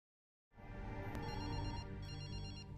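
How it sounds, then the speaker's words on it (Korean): A telephone rings in a dramatic film scene, its steady electronic ring holding clear and fairly loud after a brief silence, with no talking over it. "고민 끝에 각오를 다지고 해리에게 전화를 건 아서"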